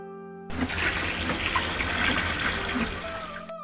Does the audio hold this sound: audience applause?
no